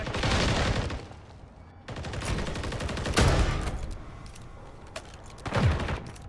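Bursts of gunfire during a ranked Hardpoint match in an online shooter game, loud clustered volleys separated by short lulls, with a final heavy burst near the end.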